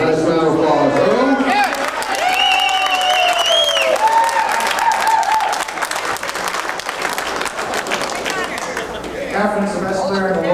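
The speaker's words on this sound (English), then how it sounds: "Let's give Earl a nice round of applause." An audience at a 9-ball pool championship final applauds with a dense wash of clapping and some cheering, loud and sustained across the clip, while voices talk over it.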